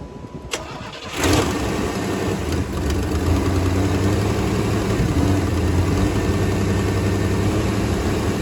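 A Pontiac Firebird engine, fitted with a new rotor and distributor cap, cranks briefly, catches and settles into a steady, loud idle with a low rumble.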